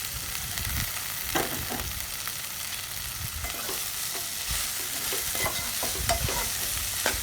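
Chopped cluster bean (chammakaya) pieces, already boiled, stir-frying in oil with browned onions, giving a steady close sizzle broken by scraping stirs of the spatula throughout.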